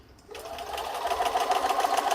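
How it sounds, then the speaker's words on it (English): A sewing machine runs steadily, stitching a quarter-inch seam around two fabric squares, a fast even whir that starts abruptly after a brief quiet moment and continues close up and alone. "I'm going to sew a 1/4 inch seam all the way around the 2 squares."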